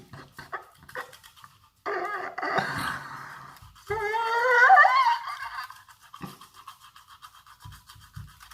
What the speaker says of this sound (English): Why do I need to brush my teeth?